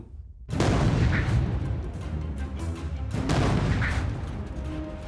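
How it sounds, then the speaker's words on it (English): Anti-tank gunfire in a World War II battle scene of the German invasion of France: a sudden loud boom followed by sustained rumbling fire and a second heavy blast, dense and cinematic, with no speech. "we immediately came under fire by anti-tank guns"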